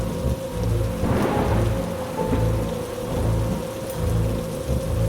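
Thunderstorm sound effect for a Hindi horror story: loud, continuous heavy rain with deep, rolling thunder rumbles surging and fading at regular intervals, without any voices.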